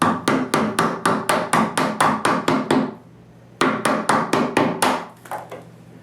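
A chisel is tapped with a mallet to cut a door hinge mortise in a blank wooden door: a quick, even series of sharp knocks, a short pause, then another run of blows trailing into softer taps; close, no talk.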